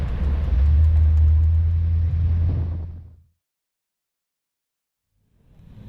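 A 1966 Batmobile replica engine rumbles loudly and steadily while driving, then cuts out abruptly into silence before a faint rumble returns at the end.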